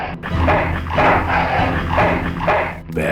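A dog in the video game Full Throttle Remastered, barking and growling loudly in several bursts over continuous game noise.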